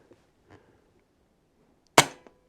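A single Air Arms S510 twin-cylinder air rifle shot on low power, one sharp close crack with a short tail and a faint follow-up tick as the pellet hits a dirt pile, preceded by quiet handling clicks.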